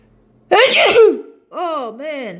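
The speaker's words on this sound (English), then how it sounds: "Just sneezed on my phone." One loud, close sneeze from a man, a sudden explosive burst followed by groaning vocal sounds afterward.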